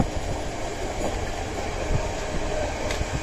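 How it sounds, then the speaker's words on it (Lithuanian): Low rumbling of trains at a station in Poland, with rail clatter and a faint squeal, steady and fairly loud throughout, no voices. "Ai, stovės traukiniai, žiūrėk, stovės."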